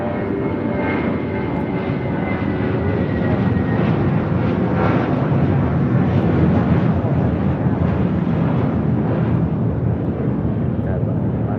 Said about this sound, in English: A320 now rolling down 25 right.